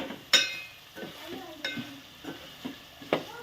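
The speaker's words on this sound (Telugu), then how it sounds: "తర్వాత మొత్తాన్ని మిక్స్ చేసుకోవాలి." A spoon stirs curry with ginger garlic paste in a pan, repeated scraping strokes and light knocks against the metal over a faint sizzle, close by with no talking.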